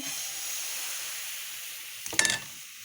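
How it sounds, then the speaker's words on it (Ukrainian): Pancake batter poured into a hot pan gives a steady sizzling hiss, with a brief clatter of utensil against metal near the end. "І виливаю на сковорідку."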